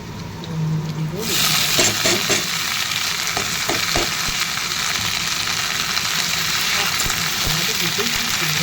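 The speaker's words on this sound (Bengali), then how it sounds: "বেগুনগুলো ভাজা ভাজা হয়ে গেছে" Eggplant pieces fry in a pan, the loud, dense sizzle starting abruptly after a quiet second and then holding steady, with occasional stirring clicks.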